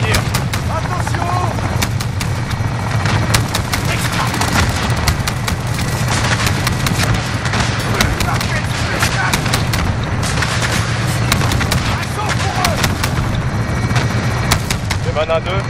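Dense, continuous gunfire in Call of Duty Modern Warfare, with rapid automatic bursts and heavy impacts crackling throughout, loud and close, mixed with battlefield rumble and faint radio-style voices.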